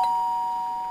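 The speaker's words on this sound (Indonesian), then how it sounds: "Ada bel. Gojek." A doorbell in the horror game Baby In Yellow gives a single short, steady electronic chime, fairly loud and clean, with no other sounds around it.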